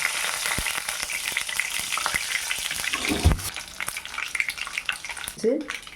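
Bengal gram sizzles and crackles in hot sesame oil in a pan, a busy continuous frying hiss with occasional stirring scrapes and a brief louder clatter partway through.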